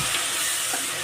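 Spiced cauliflower gravy sizzles loudly in a hot pan while being stirred, a dense, steady hiss with scraping strokes and no voices.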